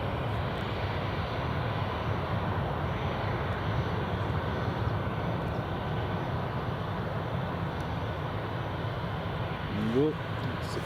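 Finnair airliner at Edinburgh Airport, a steady broad engine roar holding at an even level throughout, with a brief rising tonal whine near the end.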